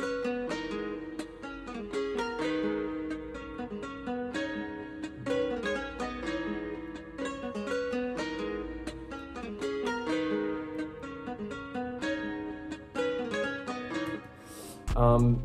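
A counter melody layered into a hip-hop beat built in FL Studio, a bright pitched line weaving over steady drums and chords, loud and continuous throughout before a short burst at the end.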